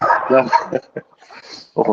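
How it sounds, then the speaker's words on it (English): A dog barks in a few short, close bursts, with someone talking between and around them. "that's my dog."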